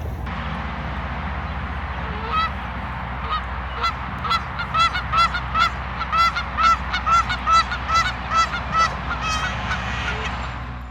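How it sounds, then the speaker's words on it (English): Waterfowl calling outdoors beside a wooded walking trail, a steady run of loud, repeated honking calls close by for several seconds over a constant background rush. "We've got a duck!"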